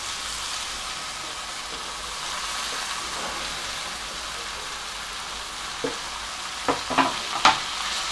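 Roughly chopped spinach tossed into a pan of sautéed corn for a corn and spinach soup: an even sizzle throughout, then several sharp clatters and scrapes of stirring toward the end.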